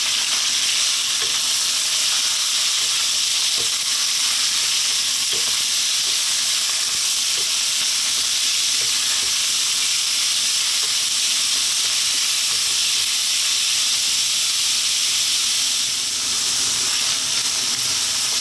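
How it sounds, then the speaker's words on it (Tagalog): Minced chicken sautés in a pan with a loud, steady sizzle and hiss that carries on throughout, and faint stirring clicks come through now and then. Nobody talks. "gigisahin natin yung ating minced chicken"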